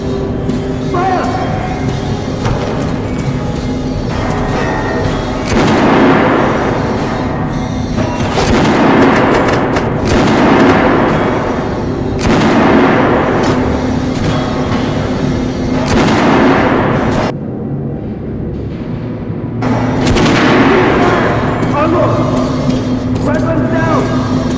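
Repeated loud gunfire rings out at a firing range in the Metro 2033 / Last Light Redux video game, heavy booming bursts recurring every few seconds with short lulls between them, close and dominant.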